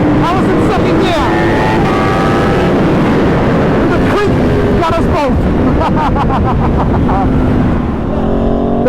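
A 2021 Aprilia RSV4 superbike fitted with an SC Project exhaust, racing alongside a 2022 Suzuki Hayabusa, roars loudly with rising and falling engine revs and gear changes, while people talk over it.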